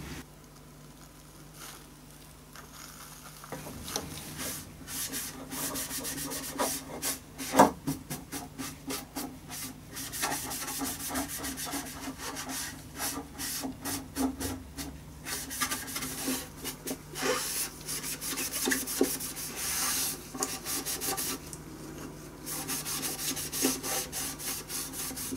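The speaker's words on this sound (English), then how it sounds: "I'm going to apply it with a sponge that was in the box of the assortment." A sponge rubs brown water stain over the bare wood of a handmade violin being varnished, giving a steady soft scrubbing and wiping texture that continues for the whole stretch, close and moderately quiet, with no talking.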